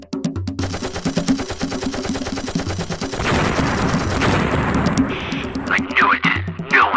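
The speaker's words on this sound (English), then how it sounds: "They're shooting at us." Rapid bursts of automatic gunfire in the video game PlaneShooter, dense rattling volleys layered over a rhythmic game music track, loud and close, swelling into a heavier barrage before trailing off.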